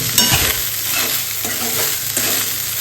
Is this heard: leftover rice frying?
yes